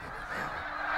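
A large flock of snow geese on the Lancaster-Lebanon County border honks loudly and continuously, with many overlapping calls forming a dense, nearby chorus.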